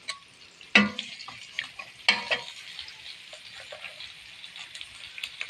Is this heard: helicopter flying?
no